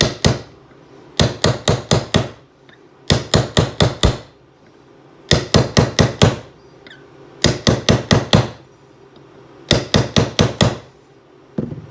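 Hammer strikes driving a spring kit part into a pistol frame, loud sharp taps in tight bursts of four to six blows separated by short pauses, repeated several times with faint squeaks between.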